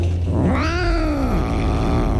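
A cat gives one drawn-out, rising and falling meow, close and loud over a steady low background hum, with no talk.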